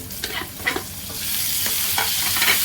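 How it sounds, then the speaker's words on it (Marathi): Onion and tomato sautéing in a pan for a Maharashtrian green chilli thecha, with close, crisp sizzling and repeated scraping stirs of a spatula forming an uneven rhythm, no voices. "टमाटर सॉफ्ट होईपर्यंत परतून घेऊ।"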